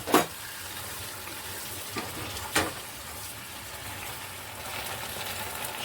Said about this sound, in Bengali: মশলা ধোয়ার মিক্সারের জলটা দিয়ে দিলাম।